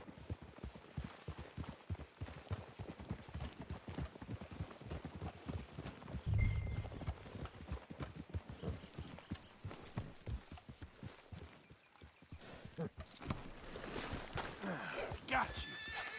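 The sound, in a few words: horses neighing and hooves clip-clopping in Red Dead Redemption 2 video game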